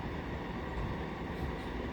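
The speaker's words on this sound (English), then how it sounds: "That's the slowest damn train I've ever seen in my life." A slow-moving train passes nearby as a continuous low, broadband rumble that holds steady and fairly loud for the whole two seconds, with no voices.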